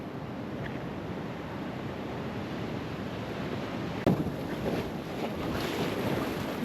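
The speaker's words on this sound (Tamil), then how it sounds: "பாருங்க எங்க வந்து அலை இருக்கு" Ocean waves wash and rush in steady, broad noise with wind buffeting the microphone, and a brief sharp knock midway.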